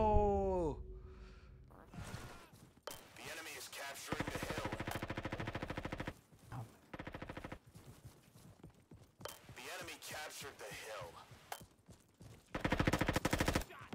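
Rapid automatic gunfire rattles in bursts through a Roblox shooting game, loud and near, alternating with quieter gaps and occasional single shots, with players talking over it.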